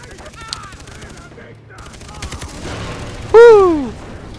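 Gunfire in the video game Far Cry 3 co-op, scattered shots and bursts building to a loud final blast with a falling whine, mixed with low game sounds and voices.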